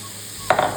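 Batter of egg, carrot and cabbage hits an oiled dosa pan for a vegetable omelette, setting off a sudden loud sizzle and crackle halfway through that keeps frying steadily after a quiet start.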